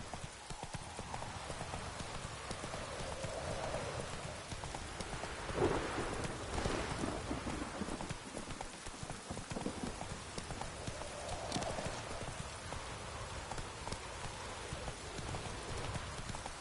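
Roach, the Witcher 3 horse, gallops with rapid, continuous hoofbeats through a rainstorm, steady rain hissing beneath and thunder rolling in the distance.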